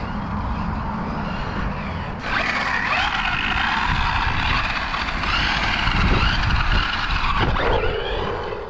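Brushless WLToys RC car tearing through long grass with a steady electric motor whine that steps up sharply after a couple of seconds and holds loud throughout, with rustling and bumps underneath.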